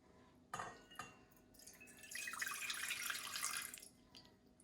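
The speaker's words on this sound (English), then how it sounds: "I'm going to pour half a cup of cold water into this bowl." Half a cup of cold water poured into a bowl while making chocolate marshmallow Easter eggs, a soft splash followed by a steady, close trickle lasting a couple of seconds before tapering off; no talking.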